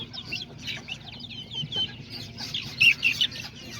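Hens, roosters and growing chicks on a farm cluck and chirp in a steady overlapping murmur, with a few louder, sharper calls near the end.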